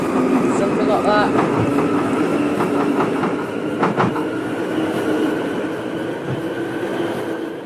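A Metro Simulator 4 metro train pulls out of the station with a continuous rumble and rail clatter, faint squeals and clicks over the steady noise, and a voice talks intermittently.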